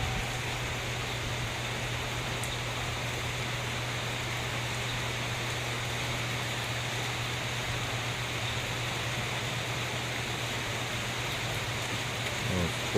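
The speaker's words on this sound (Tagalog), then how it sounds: "hangin at ulan mga kaibigan," Wind and rain outdoors near banana trees: a dense, unbroken hiss of falling rain with a steady low hum beneath, constant in level throughout with no voices.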